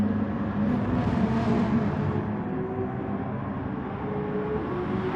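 Porsche race car engine roaring steadily during a race, loud and continuous, swelling around the midpoint as it comes through, then holding a sustained drone.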